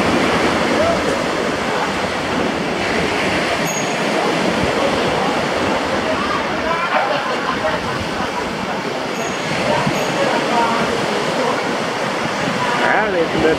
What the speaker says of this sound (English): Some big waves coming.